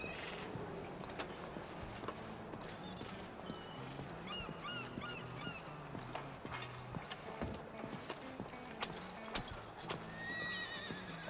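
Horse in the video game Red Dead Redemption 2 with steady clip-clop hoofbeats, a few neighs and whinnies, and faint snorting, heard at moderate volume with no talk.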